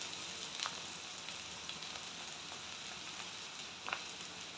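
Boiled chow mein tossed into a pan of frying ingredients for a non-veg chow mein makes a soft, steady sizzle with a few faint pops, quiet and without talk.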